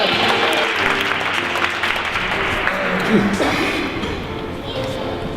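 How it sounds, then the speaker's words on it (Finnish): Applause at an award ceremony for the player of the year, clapping mixed with crowd noise and voices talking over it, fading slightly toward the end. "Hyvä aplodit."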